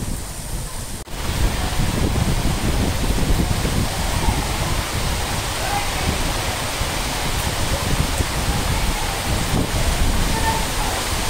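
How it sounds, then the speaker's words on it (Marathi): Steady rain falls through the night at a farmhouse, a dense, continuous wash of noise that starts abruptly after a brief gap and holds loud and even throughout, with no voices. "रातभर पाऊस पडतो."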